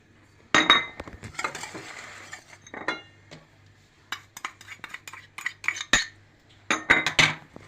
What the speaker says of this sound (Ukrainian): Сюди додаємо яйці. І цю суміш збиваємо.